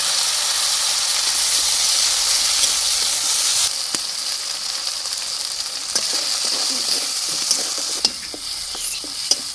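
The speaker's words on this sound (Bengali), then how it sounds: "তেল গরম হয়ে গেছে দিয়ে দিচ্ছি পেঁয়াজ এবং কাঁচা লঙ্কা একসাথে বেটে দিয়েছি" Onion and green chili paste frying in hot mustard oil, a loud steady sizzle and hiss throughout, with a brief stir and scattered spits and pops as it cooks.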